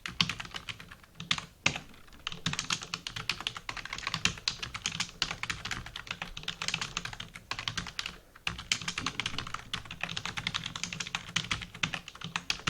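Steady, fast typing on a computer keyboard, close and clear, with dense clicking keystrokes and only brief pauses, no talking.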